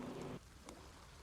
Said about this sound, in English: Figures it's raining again.